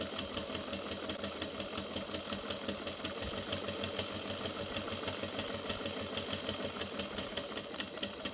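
A sewing machine runs steadily, stitching a straight seam through vinyl for a zippered tote bag, its fast even needle rhythm close and continuous with no talking.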